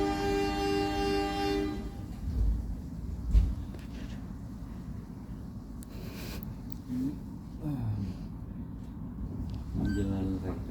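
The KA Progo passenger train rumbles along the rails, with a loud horn blast at the start and another near the end, plus clanks and voices over the steady running noise.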